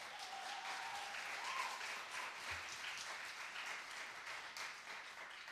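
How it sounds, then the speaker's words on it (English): A crowd at a publication celebration in an arts and culture complex claps steadily in a continuous, even patter of applause, fairly faint overall, with scattered cheers mixed in. "can we give a round of applause to the folks that are producing this event?"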